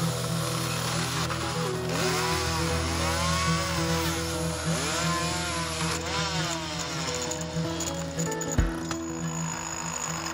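A chainsaw carving a wooden bear runs loud and close throughout, its engine droning steadily and rising and falling in pitch as the blade bites into the wood.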